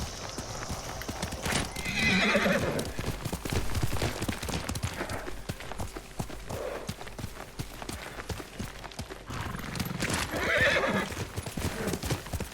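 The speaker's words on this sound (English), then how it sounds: "Yuriko's horse." Horse hooves clip-clopping and a horse neighing twice in the video game Ghost of Tsushima, set in feudal Japan; the whinnies rise loudly near the start and again near the end over a steady run of hoofbeats.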